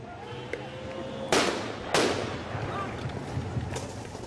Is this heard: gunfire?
yes